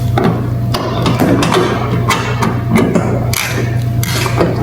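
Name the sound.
ratchet with 10mm socket and extension removing bumper bolts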